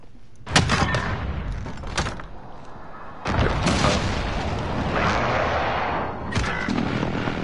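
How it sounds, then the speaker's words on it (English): Precision airstrike explosions in Call of Duty: Modern Warfare, heard as several loud booming blasts that come in bursts with heavy rumble between them, close and dense. "Enemy precision airstrike."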